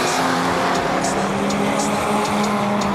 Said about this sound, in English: A big group of cars.